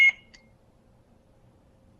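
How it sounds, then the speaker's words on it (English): An Ultrasabers Initiate LE V4 lightsaber hilt gives one short, clear electronic beep at the very start, followed by near silence. "press and hold, wait for the first beep, then let it go"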